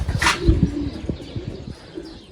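Pigeons coo softly nearby, a few low throaty calls with a brief chirp at the start, in a quiet setting.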